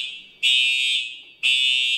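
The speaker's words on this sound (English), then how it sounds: "we set off the fire alarm with the smoke machine" A fire alarm set off by smoke from a smoke machine blares loud and close in two long piercing bursts with a short gap between them, no talking over it.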